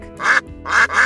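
A domestic duck gives three loud, close, nasal quacks in quick succession.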